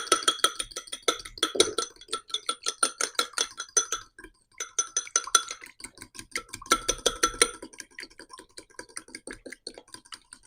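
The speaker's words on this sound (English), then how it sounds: "And then we want to stir it up." A utensil briskly stirs a cold egg with a teaspoon of water in a bowl, producing rapid, rhythmic clicking taps against the dish in quick bursts with short pauses between them.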